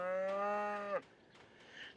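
A single cow on a farm lets out one long, fairly close moo lasting about a second, followed by quiet outdoor ambience.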